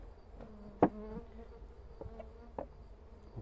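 Jataí stingless bees buzz around a bamboo nest during a hive transfer, a faint high drone with a few brief louder passes of bees flying close.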